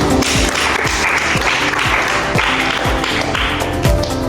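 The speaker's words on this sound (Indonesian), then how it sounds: "udah tepuk tangan buat temennya" A junior high school class claps loudly and steadily for a classmate indoors, with many hands giving a dense, continuous applause that carries a loose rhythmic pulse.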